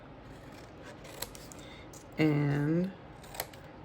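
Scissors snip through fabric scraps in a single close crunching cut lasting under a second, with a few faint handling taps and quiet background room tone.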